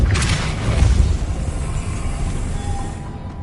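Depulso spell cast in the Hogwarts Legacy video game: a sharp booming burst up front that rolls into a sustained rumbling whoosh, loud and close, fading slowly with a faint ringing tone near the end.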